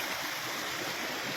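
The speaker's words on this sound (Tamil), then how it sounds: "இப்படி தான் தண்ணி ஒடியாந்துக்கிட்டே இருக்கும்." Water streams steadily down from Mount Kailash in a continuous, rushing hiss, close and even with no talk over it.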